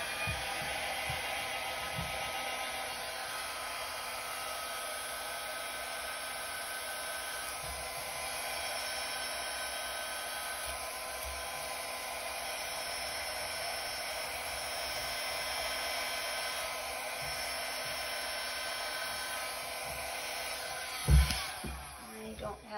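A hair dryer on its low cool setting blows across poured fluid art paint for a pearl effect, a steady close whooshing drone lasting about twenty seconds before a brief thump near the end.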